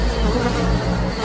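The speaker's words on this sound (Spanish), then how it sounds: "Pinches mosquitos." A dense, loud insect buzz, consistent with mosquitoes swarming close by in a forest, drones steadily throughout with no voices.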